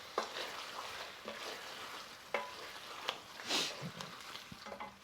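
A spoon stirs chili powder and other spices frying in hot fat in a pan for a beef madras, giving steady scraping and sizzling with several sharper scrapes and clacks, close and fairly quiet, with no talk.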